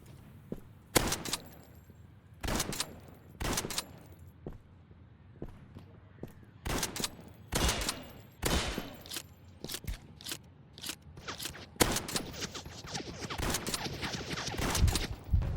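Fortnite gunfire cracks out in irregular sharp bursts, some single shots and some quick clusters, fairly close and growing denser toward the end, with a voice talking now and then in between.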